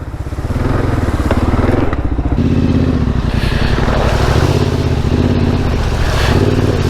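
A Yamaha Tenere 700 motorcycle rides over bumpy ground, its engine droning steadily and loudly up close throughout with a continuous rumble and wind noise.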